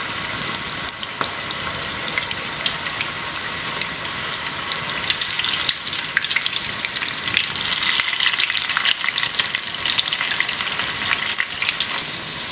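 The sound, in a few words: sweet corn pakoda frying in hot oil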